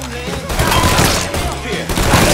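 A burst of rapid gunfire in Mafia III: Definitive Edition, close and loud shots crackling over a few seconds amid an intense street firefight.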